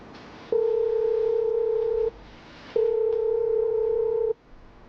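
Telephone ringback tone heard while a call waits to be answered: two long, steady electronic tones with a short gap between them, clear and loud against a quiet background.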